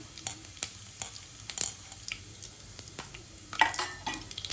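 Cumin seeds and spices, including red chili powder, turmeric and coriander powder, tossed into a few spoonfuls of hot oil for masala khichdi, giving a soft steady sizzle with scattered clinks and stirring scrapes of a spoon against the pan.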